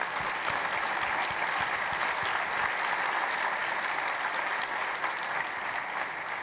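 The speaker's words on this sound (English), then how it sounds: "Now, let's give them a round of applause." Sustained audience applause fills a conference keynote hall for the whole span, a dense, steady wash of many hands clapping at even loudness with no talk over it.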